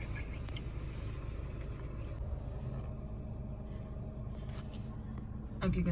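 Steady low engine rumble heard from inside a car as it drives, continuous and moderately loud, with a brief knock near the end.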